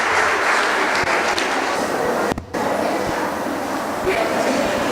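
A contestant on the Gambian kids' talent show Kids Podium, round 3, is greeted by sustained audience applause, a loud, even roar of clapping with one brief dip midway.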